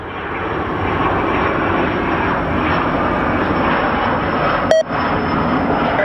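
A steady, loud roar of a small Learjet's jet engines during a light takeoff at Phoenix Sky Harbor Airport, a sustained broadband rush with a brief click near the end.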